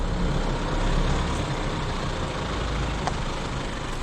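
A four-wheel drive vehicle rumbles along a rough track near Lake Rowallan, with a constant heavy, low engine and road roar filling the cabin, loud and unbroken.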